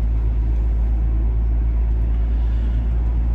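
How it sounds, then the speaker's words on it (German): A VW T4 van running on LPG autogas while driving, giving a steady, loud low engine and road rumble that holds evenly throughout with no talk. "ich fahre jetzt und er hat jetzt auf Gas umgeschaltet und wir fahren jetzt mit Gas"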